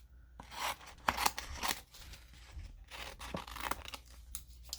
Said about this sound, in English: So I'm just going to cut a little bit of that out